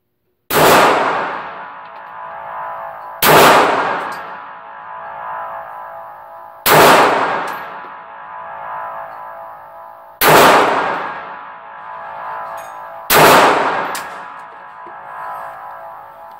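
Five sharp pistol shots from a Taurus TCP fired at 15 yards, evenly spaced about three seconds apart, each a loud crack with a ringing decay, with no talking.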